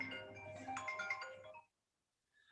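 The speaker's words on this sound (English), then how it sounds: "I apologize again for this interrupting phone calls." A phone ringtone rings during a talk, a tonal electronic melody sounding for about a second and a half, then cutting off to silence before a brief faint return.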